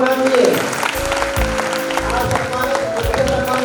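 Applause at a school annual function honouring students' exam results sounds under loud music and a talking voice, the clapping a textured wash beneath the sustained tones.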